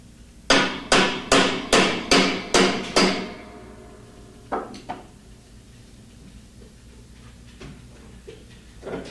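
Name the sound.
hammer striking hex wrench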